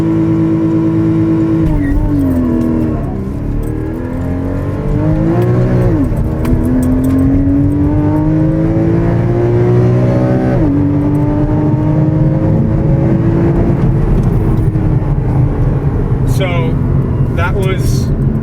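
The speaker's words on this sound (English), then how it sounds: "I'm going to mash the gas and we'll go into launch control, and we should move forward pretty rapidly in this Cayman" A 2015 Porsche Cayman S launching hard under launch control, its engine revving loudly and climbing through rising pitch sweeps with brief dips at gear shifts, heard from inside the cabin for a sustained run.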